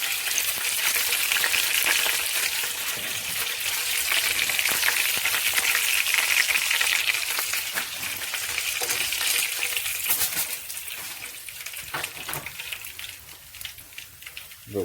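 Buffalo chicken strips fry steadily in hot grease, a dense continuous sizzle and crackle that runs throughout with small pops near the end, close and fairly loud with no talking.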